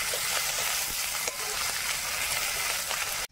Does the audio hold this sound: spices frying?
yes